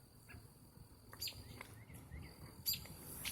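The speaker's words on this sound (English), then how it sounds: "I don't remember birds chirping like this in the night." Birds chirp in short, faint calls against a quiet night background, with a few soft sharper tweets scattered through the stretch.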